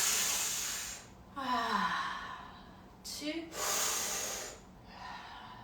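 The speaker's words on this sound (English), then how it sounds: "And let's do 6 breaths together." Slow guided breaths through the nose during a fascial movement class: two audible inhale-exhale cycles with airy rushes separated by pauses, close and moderately loud.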